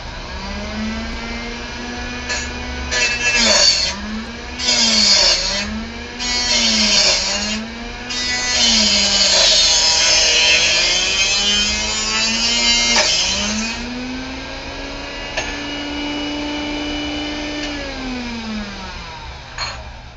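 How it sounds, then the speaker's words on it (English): A miniature abrasive chop saw cuts through a clamped thin-walled tube. The motor whines with pitch dips as the wheel bites, and a harsh grinding screech sounds close and loud through most of the cut before spinning down. "it'll be okay to cut on my miniature chop saw"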